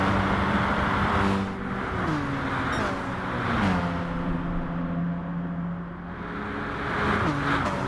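Racing cars roar down the straight during the Bathurst one-hour endurance race, a Scirocco and a McGann among them, engines revving hard with rising pitch sweeps as they accelerate and pass, loud and continuous throughout.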